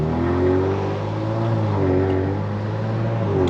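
A Kia Stinger engine hums steadily with a rising and falling tone as it accelerates while driving, close and continuous, with no talking.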